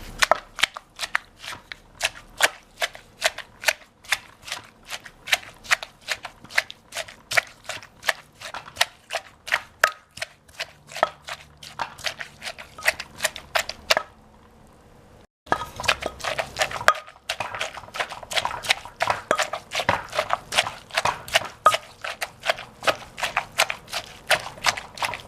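Rhythmic clacking of a wooden pestle pounding and tossing shredded papaya with the other ingredients in a mortar for Thai papaya salad (Som Tum), steady repeated knocks close up with one brief pause.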